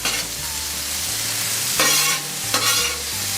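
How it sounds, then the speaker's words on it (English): Vegetables and ham sauté in bacon grease on a flat breakfast griddle, a steady sizzle broken by scraping and stirring strokes of a spatula, close and fairly loud, with no one talking. "Ham, right in the bacon grease. That's what we'll use to saute our veggies."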